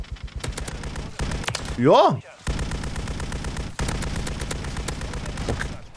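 Rapid bursts of light machine gun fire in Call of Duty, sustained and dense, with a brief pause and a short spoken word partway through.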